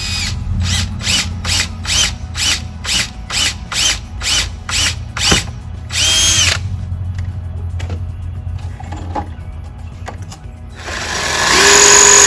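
Power drill driving the top blue Tapcon anchor screw through a cedar shutter, a loud pulsing whir in about a dozen rapid bursts, then scattered clicks and handling noise before a rising hiss at the end.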